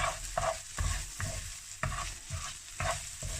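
Fried rice with sesame seeds stirred in a pan, several rhythmic scraping strokes about every half second over a soft background sizzle, close and alone.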